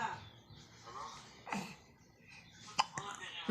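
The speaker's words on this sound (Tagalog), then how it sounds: "Sinisinok ka na naman." A baby girl about two months old hiccups in a few soft, abrupt little bursts amid quiet close-up breathing and faint murmuring nearby.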